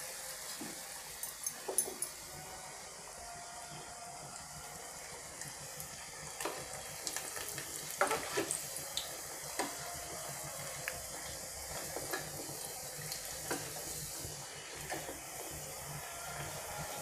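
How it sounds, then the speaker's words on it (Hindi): Puris deep-frying in hot oil over a full flame for a Navratri thali, giving a steady bubbling sizzle with scattered crackles and pops throughout, heard alone and close by. "इन पूड़ियों को हम फुल फ्लेम पे तलेंगे।"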